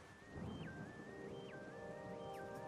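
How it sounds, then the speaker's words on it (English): Rain falling over a swamp area in the video game Metroid Prime 2: Echoes, a faint steady hiss of rainfall with a rumble beneath it and a repeating melodic tone layered on top. "So it's pretty rainy"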